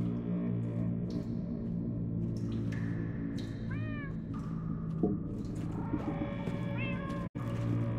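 Several cats meow in a Minecraft Story Mode scene, with short, clear mews rising over a steady hum of background music and ambience.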